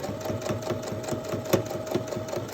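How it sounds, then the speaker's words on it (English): A sewing machine runs steadily, stitching down the sides of a bag handle with a fast, even mechanical rhythm and a faint whine, close and alone. "And then you take it to your sewing machine."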